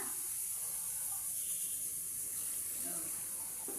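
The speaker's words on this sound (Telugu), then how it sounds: "ఒక రెండు గిలాసుల నీళ్ళు పోస్తున్నా" Water poured into a pot of chicken curry made with two kilos of chicken, giving a steady, close hiss and splash that runs unbroken for a few seconds.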